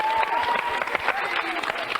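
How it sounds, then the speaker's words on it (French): Studio audience applauding contestants on a 1992 French children's TV game show, a short burst of moderately faint, dense clapping with a voice murmuring underneath. "On les applaudit bien fort."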